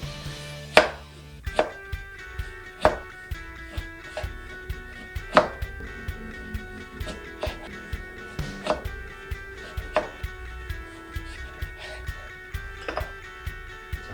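A knife slicing fruit on a cutting board for a dried cocktail garnish, a close, regular series of sharp chops landing about once a second.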